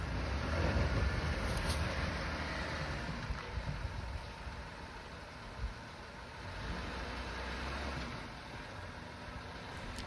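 An off-road vehicle climbing a rocky obstacle line outdoors, its engine rumbling at a low, uneven level with brief throttle surges and occasional knocks as it crawls over rock.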